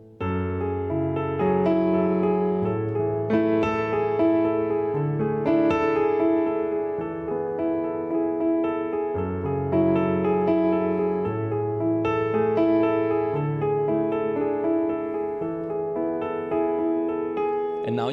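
Piano playing chords broken into individual notes, rolling steadily upward and repeating, clear and close with sustained ringing tones.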